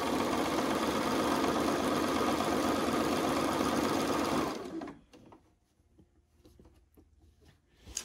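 A sewing machine joins quilt star pieces in one steady, close run of fast stitching for about four and a half seconds, then stops, leaving quiet handling noises.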